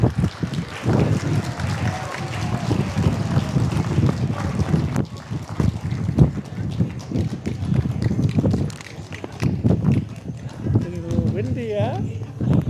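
Wind blows hard across an outdoor treaty signing ceremony between three First Nations. It makes a constant low rumbling buffet, with someone talking over it throughout.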